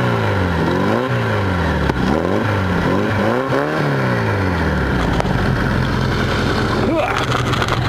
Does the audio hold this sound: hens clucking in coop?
no